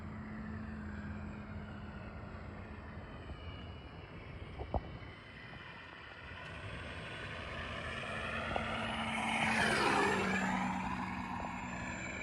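A Carbon Z T-28 RC model airplane drones steadily in the distance, its buzzing pitch shifting as it passes nearer and louder, then fades slightly.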